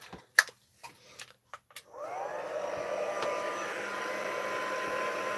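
A hair dryer switches on and runs steadily, drying alcohol-spritzed stamped craft paper for a mixed media A4 sheet, its even whoosh close and loud after a few light taps and handling noises.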